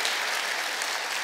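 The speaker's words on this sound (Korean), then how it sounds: "다시 한번 심사박수 우리가 드리기 원합니다." A congregation at a Sunday church service applauds with steady, even clapping that fills the short stretch without any talk.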